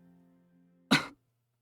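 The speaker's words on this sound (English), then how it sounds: "Lucas coughed slightly, no doubt from the effects of the curse" A single short, sharp cough from a character in the visual novel game Virche Evermore, close and clean, rising out of a quiet hum of background tones that then fall silent.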